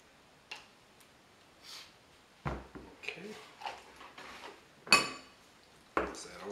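Sour cream being mixed in a dish, with scattered clinks and scrapes of a utensil against the bowl at irregular intervals, close and fairly quiet.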